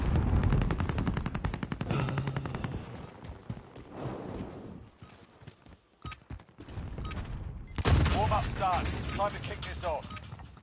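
Video game gunfire, with rapid automatic bursts and single cracks that come in busy stretches and then go quiet, while players talk over the shooting.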